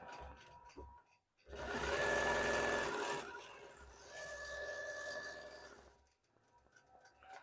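An embroidery machine stitches a placemat, its motor whirring in two sustained bursts of steady running separated by brief pauses, close and fairly loud with no talk over it.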